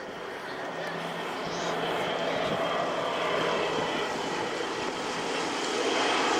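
A broad, steady engine drone from a Dornier Do 24 flying boat at an air show, swelling gradually as it passes, loud and sustained, with faint voices underneath.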